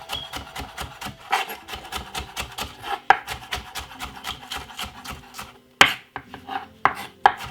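A knife chops spring onion on a cutting board in a home kitchen, with rapid, rhythmic close-up taps running steadily, broken by a few sharper louder knocks.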